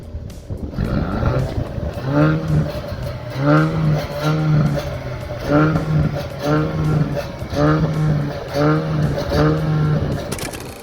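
Haval H6 GT petrol engine and exhaust revving in repeated bursts, a steady pulsing roar rising and falling about every second, loud and close with no talk over it.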